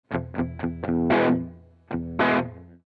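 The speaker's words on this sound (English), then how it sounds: "In that position, position number 1, it's just the bridge pickup." Distorted notes from a Taylor Solidbody electric guitar played on the bridge pickup come through an overdrive pedal: a few quick plucked notes, then longer sustained chords ringing out clearly with no talking.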